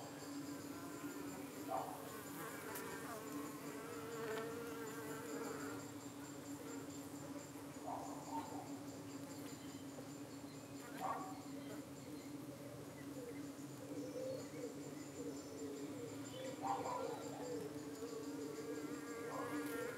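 Honey bees hum steadily at a hive outdoors, with parasitic flies (Senotainia tricuspis) darting about in brief higher buzzes. The droning is constant and fairly faint, with a few closer passes and occasional soft voice-like sounds in the background.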